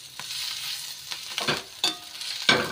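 Green chillies roast in a pan with a soft, steady sizzle and a few sharp crackles and pops, quiet and close, with no talking.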